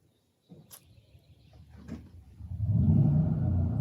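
A camper's new generator starts up by remote control: a few clicks and thumps, then the engine catches around the midpoint and settles into a loud, steady low rumble that keeps running to the end.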